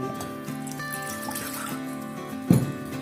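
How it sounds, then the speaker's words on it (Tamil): Water trickles into a bowl of salt in a home kitchen, a soft dribbling pour heard close over a steady background hum, with a slightly louder splash near the end. "அதுக்கு தேவையான அளவு கொஞ்சம் தண்ணி ஊற்றிக்கிறீங்க"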